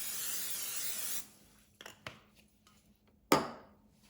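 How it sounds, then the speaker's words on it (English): Oil spray hisses steadily onto a waffle iron for about a second, then stops; a few soft clicks and handling knocks follow, ending with one sharp clatter. "time to spray the waffle iron with some oil spray."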